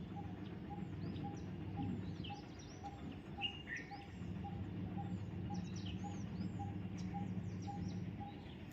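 Parrots call among guava trees outside a house on an early morning. Thin chirps and short squawks come from a distance over a faint steady background hum, with a regular soft beep and no voices.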